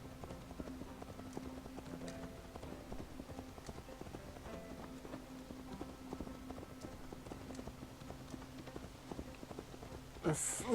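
Horse hooves clip-clop steadily under riding in Assassin's Creed Valhalla, a continuous rhythmic trot with game ambience and occasional voices, ending in a brief louder burst.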